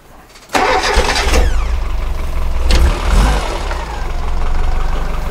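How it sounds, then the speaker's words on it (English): An Austin A-Series engine fitted with an SU carburettor cranks and fires from cold, then settles into a steady, fairly loud idle with a brief blip partway through; no one speaks. "cold engine sounds very nice"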